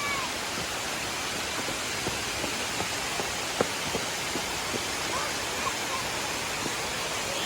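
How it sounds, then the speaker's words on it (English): Heavy rain pours down in a park by a waterfall overlook, a dense steady hiss with scattered louder drip ticks close by, and faint voices are heard now and then under the downpour. "See, the rain is so much."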